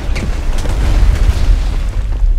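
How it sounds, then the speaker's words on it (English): A super cannon fires in the video game Trine 2, a loud, heavy, rumbling boom that rolls on continuously with deep low-end blasts and no clear gap between shots. "Oh, it's got a super cannon."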